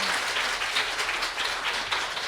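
An audience claps continuously through a short burst of steady, dense applause at a nurse managers' executive course at Lotte Hotel, with no voices on top.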